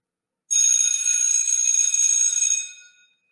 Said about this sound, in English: The bell rings when recess is finished.